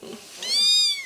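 An orphan neonatal kitten lets out one high, thin, rising meow up close, lasting about half a second, after a faint low murmur.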